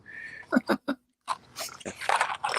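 Dogs barking and whimpering in quick bursts, several close yips and yelps in a row, followed by a louder, denser stretch of mixed noise and voices.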